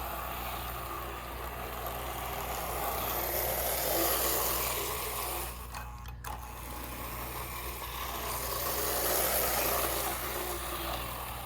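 Postwar Lionel toy train engine running on a simple loop of dirty track with tight curves: a steady motor hum and rattling wheels, fairly close and continuous, swelling and easing slightly as it circles, with no talk.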